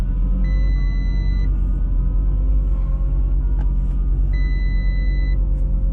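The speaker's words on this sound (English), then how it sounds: "try to do another burnout" An Audi RS3 on drag radials doing a burnout, a loud, steady, close engine roar with a constant low rumble, punctuated by brief high squealing tones.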